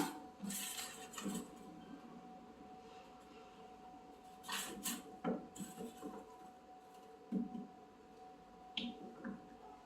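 A spot welding gun fuses nickel strip, its welds landing as several sharp, snapping clicks spread across the clip, close and fairly loud over a low steady hum from the welding machine.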